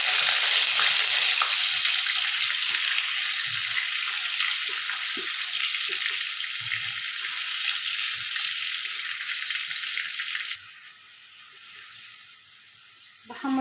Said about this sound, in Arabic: بحمر بقى الثوم كده يعني لحد ما ياخد لون حلو معايا